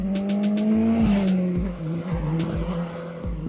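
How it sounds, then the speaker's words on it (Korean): A fast motorcycle roars up from behind a cyclist on a mountain road toward Odojae pass near Jirisan, its engine rising loudly and then falling away as it speeds by very close. "뒤에서 가까워지는 오토바이 소리가 들리는데요."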